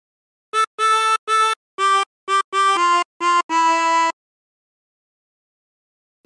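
A 20-hole tremolo harmonica plays a phrase of a Christmas song, about nine short bright notes in a bouncy rhythm, with a wavering reedy tone. Close and clear, ending in silence.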